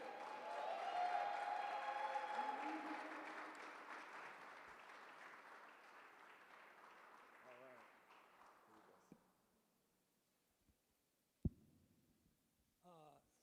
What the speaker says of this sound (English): Please, a round of applause for Mr. Eric Edwards.